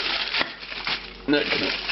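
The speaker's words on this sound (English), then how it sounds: "We're going to cover it with foil first." Aluminum foil crinkles and rustles as it is pressed over a baking dish, with several close, dry crackling bursts across a couple of seconds.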